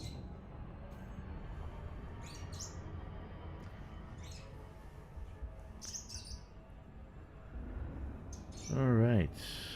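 Birds chirp and tweet in short bursts at a moderate distance over a steady hum, ending with a louder warbling call near the end, heard during Elite Dangerous gameplay.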